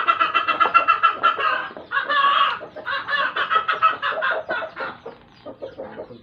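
Chickens and chicks cluck close by in quick rhythmic bursts, an almost continuous chatter of short calls with a few brief pauses.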